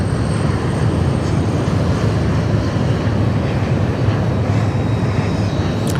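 A jet airliner taxiing quickly at Sydney Airport during the morning rush, a loud steady engine rumble and roar that holds constant throughout without any voices.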